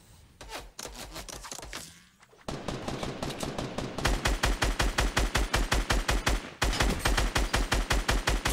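Rapid gunfire in Fortnite, loud and close, coming in fast repeating bursts with short gaps between volleys and a sharp crack on every shot.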